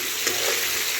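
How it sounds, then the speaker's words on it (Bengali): Fish frying in hot oil in a wok, a dense, even sizzle that holds steady through the brief moment with no talking. "তো দেখুন আমার মাছগুলো কি সুন্দর ভাজা হয়ে যাচ্ছে"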